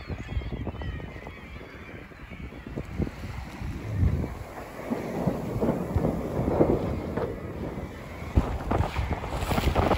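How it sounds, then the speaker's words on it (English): Strong wind gusting over a sailing yacht crossing the Thames Estuary at over six knots, a steady roaring rush with buffeting against the microphone and water noise underneath, building slightly toward the end. "The wind has got up nicely and we are sailing at over 6 knots."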